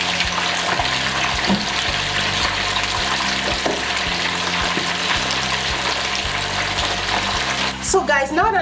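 Fish sizzles and spatters in a pan in a steady, loud crackle, heard close up with a soft clatter near the end; the cooking is for a West African peanut soup.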